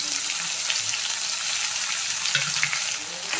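A ground paste of ginger, cumin, garlic, onion, tomato and black pepper fries in a pan for a prawn, potato and eggplant curry, giving a steady, close, hissing sizzle throughout with faint intermittent stirring scrapes and no voices.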